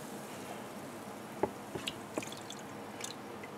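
Cast iron pulled out of a vinegar bath drips faintly, with a few soft wet drips and splashes over a quiet hiss of room noise.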